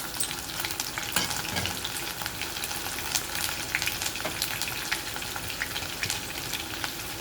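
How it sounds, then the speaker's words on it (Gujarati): Mustard seeds, cumin, chillies and asafoetida sautéing in hot oil for a raw banana curry, a steady dense sizzle with crackling pops throughout, close and alone with no voices. "હિંગ બધું નાખી ધીમા તાપે સાંતળી દેવાનું"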